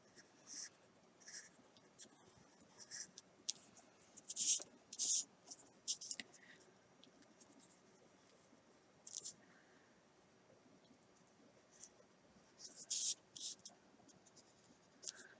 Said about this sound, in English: just take your watercolor pencil and just free form some clouds